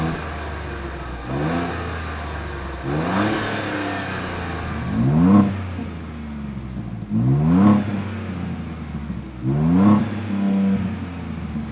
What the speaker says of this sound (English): AWE does a pretty damn good job of giving this thing some presence, using a nice deep tone without being too loud, raspy, or farty